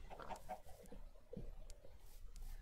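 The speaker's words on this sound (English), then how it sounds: "Sorry, pig." Minecraft pig oinking in a few short grunts near the start, with another game noise midway, moderately loud and alone without talk.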